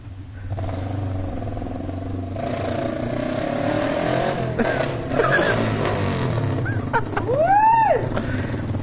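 Motorcycle engine revving and sputtering close by as if about to stall, a steady rough drone with rising and falling rev sweeps near the end.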